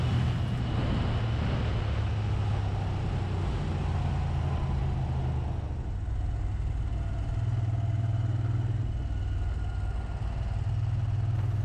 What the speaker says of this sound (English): Even though it's a big twin lump of an engine, it's very smooth and it's got very little vibration